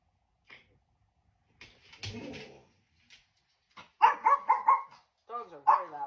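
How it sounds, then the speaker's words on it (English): Dogs bark in a short burst of loud, close, rapid yaps in a quiet kitchen during sourdough bread making, with brief whimpers and faint rustling before them and no talk over them. "Dogs are very loud today."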